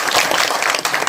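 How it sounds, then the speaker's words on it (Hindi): Loud audience applause from a society gathering of farmers in Himachal Pradesh, a dense wash of clapping filling the whole short moment with no voices over it. "तो एक बार जोरदार तालियां हमारे मदन"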